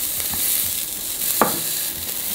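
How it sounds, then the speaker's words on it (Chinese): Meat sizzling as it grills at home, a steady bright hiss close by with one short clunk of a utensil midway. "会不会我收音都只有收到这个肉在滋滋滋的声音啊？"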